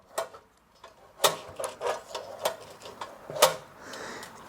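A valve actuator on a Ferrari-engined Alfa Romeo 105 build flaps from side to side, making irregular light clicks and taps close by in a quiet room.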